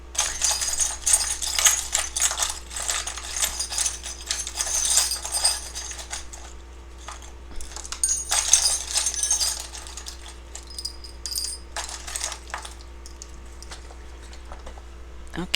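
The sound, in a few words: shuffling a deck of tarot cards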